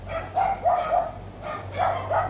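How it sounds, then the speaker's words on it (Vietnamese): Dogs bark repeatedly at Quy Tong Pagoda in Phuoc Dong, Nha Trang, several sharp barks in two bursts with a short pause between, moderately close over a low steady background hum. "Tại vì mấy con chó nó sủa ồn cái gì mọi người thông cảm nha."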